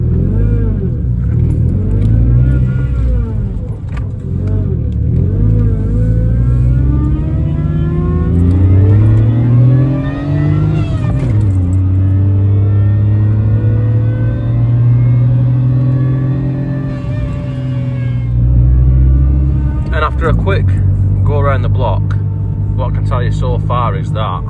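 A Citroen C1 fitted with an AMR500 supercharger drives along, its small engine revving up and down through repeated rising and falling pulls, loud and close, with a whining note from the supercharger.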